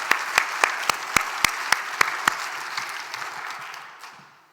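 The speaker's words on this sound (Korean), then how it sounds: "우리 영광의 주님 앞에 큰 박수 드리겠습니다." A round of applause at a church service, with sharp, evenly spaced claps standing out over the congregation, gradually fading out toward the end.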